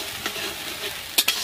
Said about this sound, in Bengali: তো এটা আমি একটু কষিয়ে নিই মশলাটা একটু